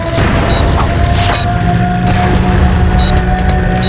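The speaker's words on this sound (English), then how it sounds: "It's an airstrike." Battlefield din from an airstrike in the video game MAG during a Domination match, a steady loud roar of rumbling blasts and scattered crackling impacts with faint tonal beeps, continuous throughout with no voices.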